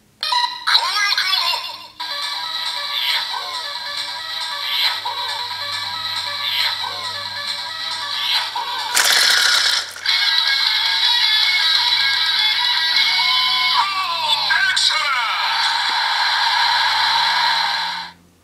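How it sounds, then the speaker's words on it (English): DX Shiny Kiramei Changer toy from Mashin Sentai Kiramager plays a loud electronic standby jingle, interrupted by a brief click and then a transformation sound, all bright, synthetic and close. "we'll get a different standby sound for a different transformation sound"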